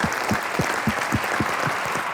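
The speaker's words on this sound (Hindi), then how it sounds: "एक बार जोरदार तालियां हमारे लेजेंड के लिए।" Studio audience on a Hindi TV comedy show applauds for the legend, loud sustained clapping over a regular thumping beat of about four pulses a second that runs beneath the whole burst.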